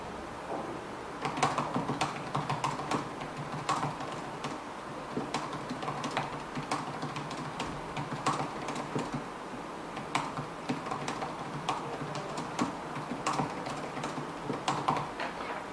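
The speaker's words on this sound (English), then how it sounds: "let's do a typing test so you can hear this keyboard" Steady typing on the keyboard of a 2008 Dell Latitude XT2 tablet laptop, a continuous run of light, quiet key clicks at close range with no voices.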